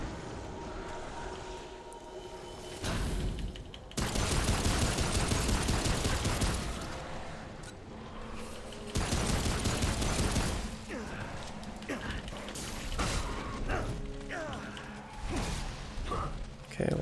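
Bursts of gunfire from the action game Remnant: From the Ashes, two long loud rapid-fire stretches with scattered shots and mechanical clatter between them, while a person talks intermittently.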